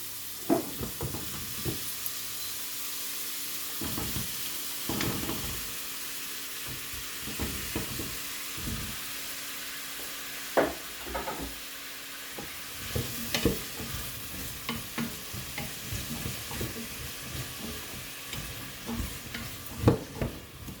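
Potato and carrot pieces sautéing in a soup pot for pumpkin soup, a steady soft sizzle with repeated scraping stirs from a utensil, close and alone without talk.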